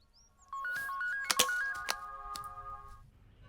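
A mobile phone ringtone plays a stepped electronic melody for about two and a half seconds in a dubbed action film scene, with a few sharp clicks over it and no talking.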